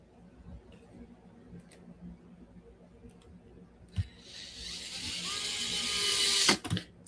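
Screws are driven into an RC kit with soft ratcheting clicks at first, then a rising whir from a power driver that builds over the last few seconds and ends in a sharp stop.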